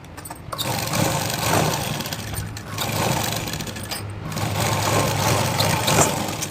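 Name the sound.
sewing machine stitching Punjabi pant pieces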